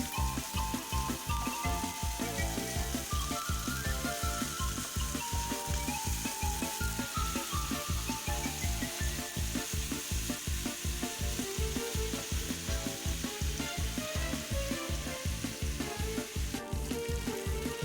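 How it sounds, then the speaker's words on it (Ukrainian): Pork ribs fry in a pan, giving a continuous sizzling hiss that stays even and close throughout, under a steady rhythmic pulsing. "Періодично перевертаємо на різні сторони, аби м'ясо підсмажилося рівномірно з усіх боків."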